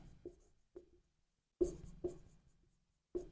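A pen writes notes on paper during a lecture, making several short scratchy strokes in irregular bursts separated by pauses, close and quiet.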